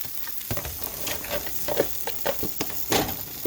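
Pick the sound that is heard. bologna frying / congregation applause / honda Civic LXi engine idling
bologna frying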